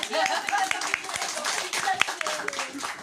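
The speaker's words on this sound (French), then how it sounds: "on applaudit" An audience claps at the close of a live writing masterclass, a moderate spread of overlapping hand claps with speech running through it.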